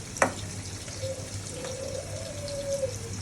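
Prawns frying with onion in a pan give a soft, steady sizzle close by, with a sharp clink near the start and a faint tonal whistle in the background.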